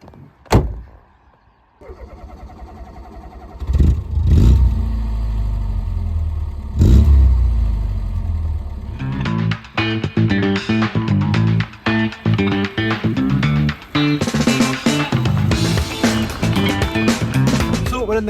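A restored Ford Escort gives a sharp door slam, then the engine turns over and runs at a steady mid-pitched drone before rising through repeated revs as it pulls away on a drive, loud and close from inside, with brief voices early on.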